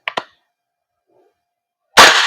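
Two quick faint clicks, a pause, then one loud close crack from a VFC Knight's Armament KS-1 L403A1 airsoft gas blowback rifle with a short hissing tail.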